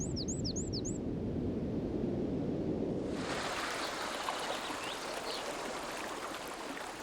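Mountain stream flowing into a Bavarian fjord lake in a glacier-carved side valley, a steady broadband rush of water throughout, with a few bird calls at the start.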